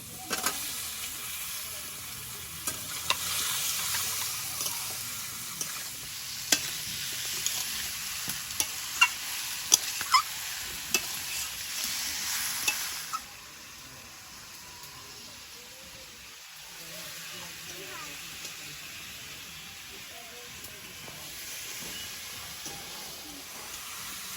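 Chicken frying in a pan with onion, green chilli, tomato, salt and chilli powder gives a steady sizzle and hiss, broken by the scrape and clatter of stirring, before the sizzle settles lower.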